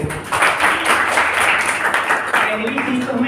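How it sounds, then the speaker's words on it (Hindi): An audience claps hands at a talk on body language, a brisk burst of clapping heard under a man's ongoing speech. "ताली बजाओ पहले।"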